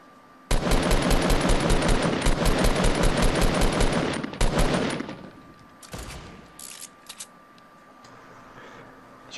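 Fortnite Battle Royale gunfire: a long, loud burst of rapid automatic shots for about four seconds, a brief follow-up burst, then scattered lighter clicks and taps trailing off.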